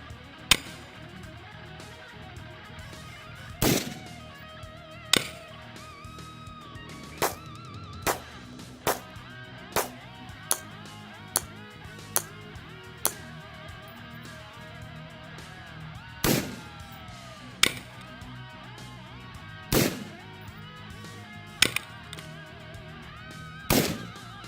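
Rifle shots fired outdoors with the shooter wearing earplugs, a string of loud, sharp cracks spaced irregularly over the stretch, each ringing out briefly before the next.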